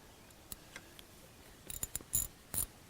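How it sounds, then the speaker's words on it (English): A wrench loosens the negative battery terminal on a Ford Edge, making faint metallic clicks and ratcheting ticks that grow into a short burst of sharper clanks near the end, with no talking. "we'll go ahead and get this negative"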